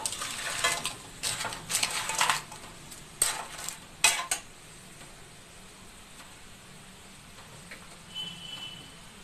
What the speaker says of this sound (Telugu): ఇప్పుడు గట్టిగా ఇలా మిక్స్ చేయండి.